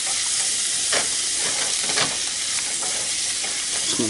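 Onions frying in a pan over medium-high heat, a steady loud sizzle and hiss broken by the scrape and shuffle of stirring, close up with no talk.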